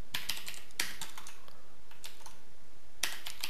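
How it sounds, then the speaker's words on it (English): Keystrokes on a computer keyboard while entering in-game programming text in Space Engineers, a few clear clicks in small bursts with short pauses between them, close and fairly quiet, with no talk. "So I'm going to type world."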